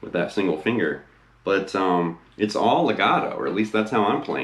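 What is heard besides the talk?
No distinct noise like a dog, phone or traffic.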